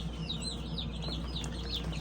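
Baby chicks on their first day chirp in quick high peeps, a faint but steady flurry of small calls over a low background hum.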